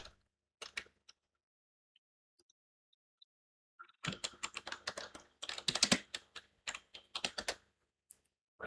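Keystrokes on a computer keyboard as a command is typed into a terminal: a couple of isolated taps, a pause, then a dense burst of rapid, close, fairly loud clicking that tails off into a few final taps.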